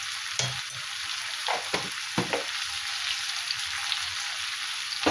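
Cumin seeds and coriander frying in a pan, a bright continuous sizzle with a few sharp stirring clatters near the start, close up, no voices.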